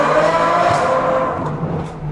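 Supercar engine roars loud and close in a short, sustained acceleration run, its tone sweeping steadily with no talk.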